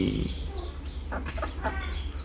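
A young chicken gives a few short clucks nearby over a low steady hum, with faint background noise.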